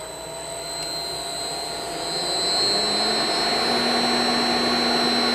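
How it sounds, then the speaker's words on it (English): A variable frequency drive spins up a motor with a steady electrical whine and hum, a rising tone entering partway through and the drone growing slightly louder, no speech. "we can start the drive"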